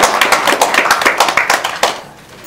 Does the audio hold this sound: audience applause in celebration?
yes